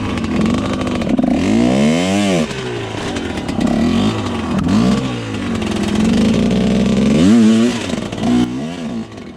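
An enduro motorcycle climbs and pivots on hard enduro terrain. Its engine revs up and down in repeated loud, close surges, with sharp blips and brief drops between the climbs.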